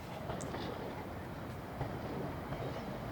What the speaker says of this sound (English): Look, there's a train over there.